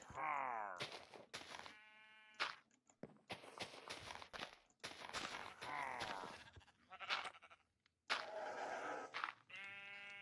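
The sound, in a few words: horses in a video game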